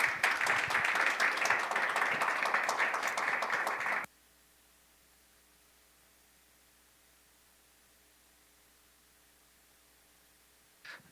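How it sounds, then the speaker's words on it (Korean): A conference audience applauds to welcome a speaker, a dense burst of clapping for about four seconds that cuts off abruptly into near silence, with a faint tap at the very end. "큰 박수로 최재용 교수님을 단상에 모시겠습니다"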